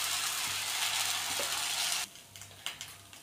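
Fasting dosa batter sizzles on a hot griddle, a loud steady hiss for about two seconds that then cuts out, leaving quieter scraping and a few light clicks of utensils.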